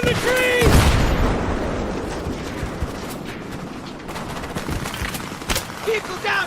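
Gunfire during a woodland ambush in the war video game Battlefield 3, a loud blast up front followed by scattered rifle shots and explosions, with shouted radio-style voices over the fighting.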